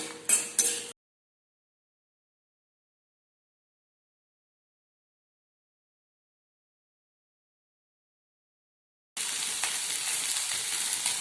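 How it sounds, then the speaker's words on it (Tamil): Tomato and shallots frying for a chutney, a short burst of sizzling at the start, then silence, then steady loud crackling sizzle returning near the end. "ஸோ இதையும் போட்டு வறுத்துக்கலாம்."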